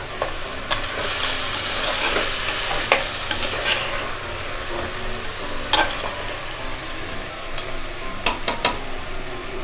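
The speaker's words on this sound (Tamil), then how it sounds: "அதை வதக்கிட்டு" Crab pieces sizzle in a hot pan while a utensil stirs and scrapes now and then, with a steady frying hiss underneath.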